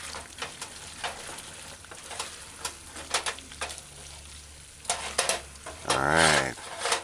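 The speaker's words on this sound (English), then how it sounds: "add the chopped onions. I like my onions sauteed a little bit, so I'm just gonna stir fry them for a little while" Chopped onions stir-frying in a hot pan, a steady sizzle broken by repeated scraping and stirring strokes, with a louder clatter of utensil against pan near the end.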